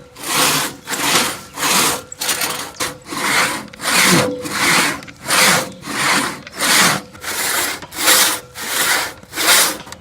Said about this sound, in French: c'est une scie qui peut aussi se manier à une seule personne